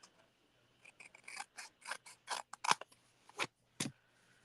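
A series of quiet, crisp snips of scissors cutting paper scraps, about a dozen in irregular rhythm, close up and alone.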